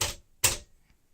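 A 1964 Smith-Corona Sterling manual typewriter strikes two sharp, close key hits about half a second apart, each followed by a short fading clack.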